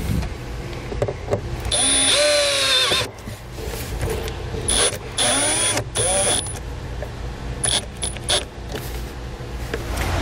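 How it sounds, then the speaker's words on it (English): A power drill drives a self-tapping screw into metal on a 2018 Jeep Cherokee. The motor whines in loud, close bursts that start and stop several times, rising in pitch as it spins, with clicks and creaks between the bursts. "to secure it, I'm going to use the included self-tapping screw."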